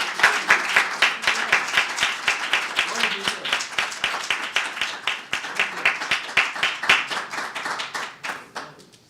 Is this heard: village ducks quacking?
no